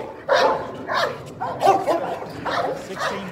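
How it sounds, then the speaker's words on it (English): Military bomb-detection dogs bark in a quick series of about six loud, close barks with short gaps, set against steady outdoor background noise. "These is real military drug dogs and bomb dogs."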